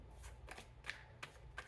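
A deck of cards being shuffled, heard as a few quick riffling bursts close by and fairly faint, with no talking.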